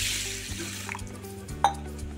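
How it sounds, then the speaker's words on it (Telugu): Water pours into a bowl of rice and sago, a steady splashing stream nearby with a small splash near the end. "ఇందులోకి నీళ్ళు వేసుకోవాలి."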